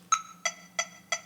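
A metronome ticks four crisp, evenly spaced clicks in quick succession, close and clear over a faint low hum, with no voices.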